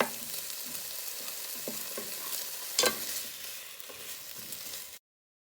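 Rice frying with bacon bits in a pan, close and steady sizzling broadcast with stirring and scraping against the pan bottom, one sharper clatter midway, then abrupt silence.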